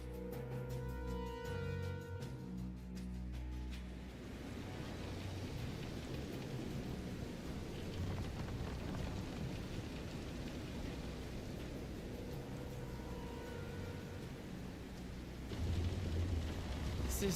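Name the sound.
thunderstorm with rain in Visions of Mana video game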